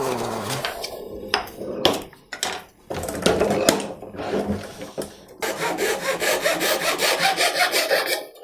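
Saw cutting off a piece of wood for a homemade bow sander, with raspy back-and-forth strokes that pause briefly and then settle into a steady, faster rhythm, close and fairly loud, with no speech.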